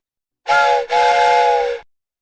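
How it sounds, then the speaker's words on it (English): A steam pipe whistle lets out a loud, sustained, shrill tone with bright stacked harmonics, briefly dipping and then resuming for about a second and a half before stopping cleanly, heard alone with no voices. "some kind of a sound-emitting device like a steam pipe at its tip"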